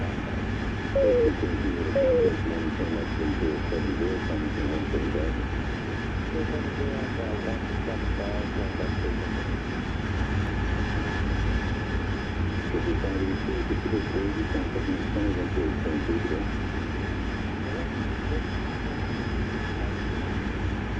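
Steady droning aircraft engine in the DCS flight simulator game, climbing for altitude, holding at an even level throughout with a voice talking over it.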